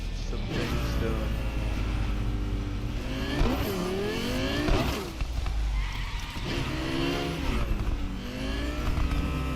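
Car driving in the video game Cyberpunk, a steady engine drone with rising and falling revs and whirring mechanical tones throughout, played loud and continuous with no pauses.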